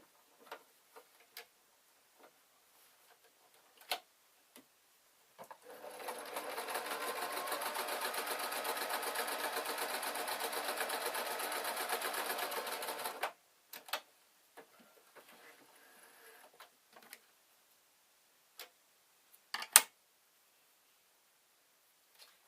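A sewing machine stitching a Downton Abbey-style dress runs in one steady burst of about eight seconds, a fast close whirring rattle, framed by soft handling clicks and fabric noises before and after.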